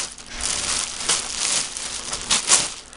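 Crinkling plastic bag handled continuously as an adult karate chest protector is pulled out of it, close and fairly loud with sharper crackles at intervals, no talking.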